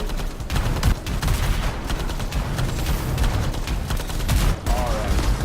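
Sustained bursts of gunfire from the video game Anthem, in the Tyrant Mine stronghold, come as dense, continuous shooting with booming impacts, loud and close throughout, with no talk over it.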